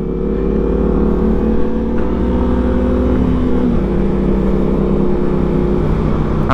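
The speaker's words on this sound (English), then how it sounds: "That's not an R1, it's an R7. That's why it sounds the way it does" A Yamaha R7 motorcycle passes nearby with a loud, steady engine drone, its pitch dropping partway through as it goes by, all heard over continuous road and wind rumble.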